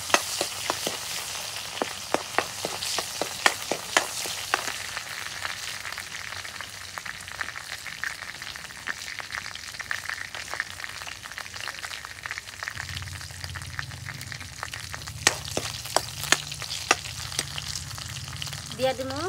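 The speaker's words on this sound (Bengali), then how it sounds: "গরম আছে, এখন আমি রসুন বাইটা দিব।" Garlic paste hits hot oil in a pan, giving a steady, close sizzle with dense crackling that runs unbroken throughout, with no talking.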